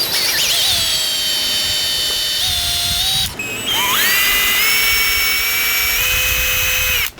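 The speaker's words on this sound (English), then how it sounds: "So let's go ahead and get our index pins drilled." Power drill boring index pin holes into a guitar neck blank, a loud whining motor that spins up, holds a steady pitch, briefly stops, then revs up again and runs until a sudden cutoff.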